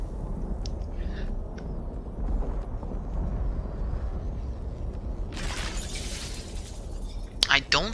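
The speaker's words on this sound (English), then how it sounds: "I'm gonna have to shatter all these crystals" Crystals shatter in the video game Myst Online: Uru Live: a loud glassy burst of breaking runs about a second, then a second sharp crash follows near the end, over a murmuring background with voices.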